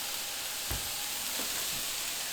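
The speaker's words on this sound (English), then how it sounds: "Now we'll just add in our sauce." Lemon garlic sauce hits a hot pan of tofu and kale with a steady hiss and sizzle, a soft clunk near the start and a faint stir partway through, with no talk.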